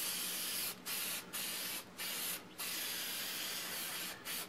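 Aerosol spray can hissing ink onto a freehand redwood stop-sign carving, fired in five short bursts with brief gaps between them, close and steady, with no talking.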